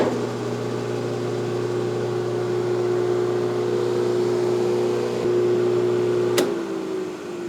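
3D printed industrial fan spinning clockwise, a loud steady motor hum with a constant tone that holds for several seconds, then a click and the pitch starts winding down.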